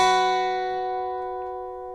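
The first pass of the lead guitar riff from a song's intro rings as a clear, sustained two-note tone that decays gently over two seconds, close and solo without talk.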